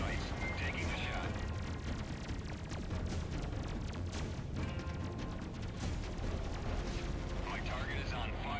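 Spaceship weapon fire in the space combat game Freelancer, dense rapid booming shots and blasts over a rumbling engine bed, with voices speaking over the action.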